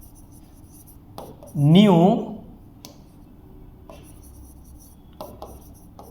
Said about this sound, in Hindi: अब मैं लिखता हूं इसको